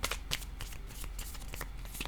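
Tarot cards being shuffled before one is drawn, heard as a steady run of close, crisp riffling and flicking card sounds that lasts throughout, with no clear talking.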